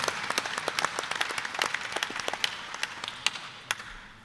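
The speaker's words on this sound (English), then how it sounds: "Let's give a round of applause for all of our Secretary of State candidates." A crowd at a statewide candidates' forum applauds the Secretary of State candidates, with steady clapping throughout and sharp individual claps standing out, fading slightly toward the end.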